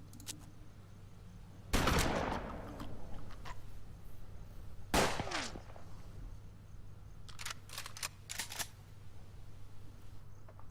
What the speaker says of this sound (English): Should I try the shotgun?